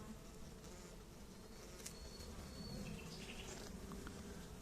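A dense, continuous buzz of many honeybees in a hive, close by, with a few individual wingbeats rising above the hum.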